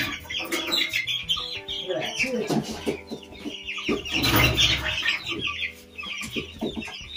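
Bresse chickens being caught in a pen make busy, overlapping clucks and squawks close by, with flurries of flapping and scuffling and some faint voices in the background.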